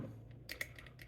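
An ERA Fortress lever lock being picked, its levers giving a couple of faint, quick clicks in near-silence over about a second.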